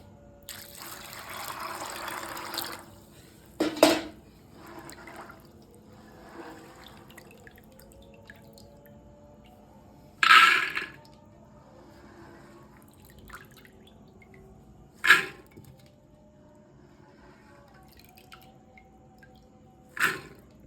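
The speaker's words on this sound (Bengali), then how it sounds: "মটরটা আমি ধুয়ে সিদ্ধ চাপাবো" Soaked dried peas are washed in water, with a few sharp splashes and pours spaced several seconds apart, quiet trickling and dripping in between, close by, with no talking.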